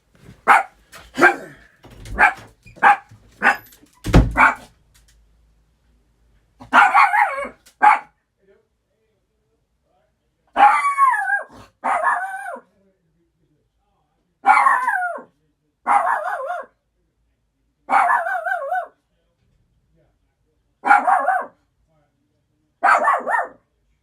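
A dog barks repeatedly, first in a quick burst of sharp barks, then in spaced pairs and short clusters with brief silences between.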